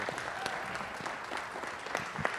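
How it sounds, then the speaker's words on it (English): Audience applause fills a city council meeting chamber, a steady patter of many hands clapping at moderate distance for a couple of seconds with scattered sharper claps and no talking. "Let's give them another round of applause."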